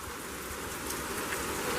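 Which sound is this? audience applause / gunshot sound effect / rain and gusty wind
rain and gusty wind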